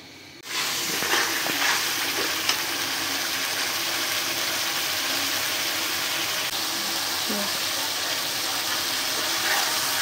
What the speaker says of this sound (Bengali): এখন সব মশলাগুলো ভালো করে কষাই নেব।